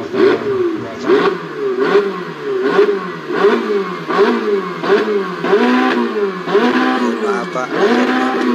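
A motorcycle engine runs and is revved over and over, each rev a short rising surge that repeats roughly once a second. It sounds close and loud and stays steady throughout.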